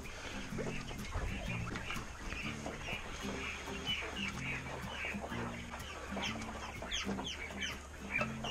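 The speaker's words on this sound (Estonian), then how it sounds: "Vaadake, kukkede kari on siin." A flock of chickens and roosters clucks continuously and fairly close, busy overlapping calls filling the whole stretch, with a person talking now and then over the birds.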